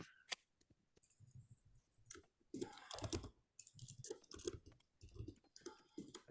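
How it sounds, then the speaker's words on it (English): Typing on a computer keyboard during a Swift programming lesson, quiet uneven bursts of key clicks separated by short pauses, close but faint. "and then just start typing."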